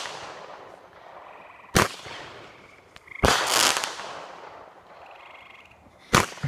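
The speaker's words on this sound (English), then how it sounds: "Alright, this is one of the bigger fireworks." Fourth of July consumer fireworks explode outdoors in three sharp, loud bangs spread across a few seconds, the middle burst longest with a crackling tail, over a steady background hiss.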